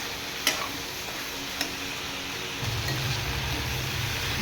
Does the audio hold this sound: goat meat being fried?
yes